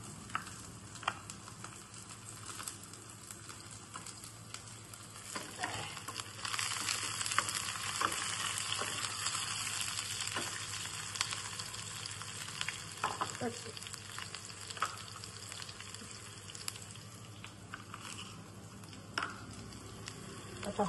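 Onions and green chilies sizzle in a pan with a soft, continuous crackling hiss, broken by occasional light stirring scrapes, fairly quiet throughout.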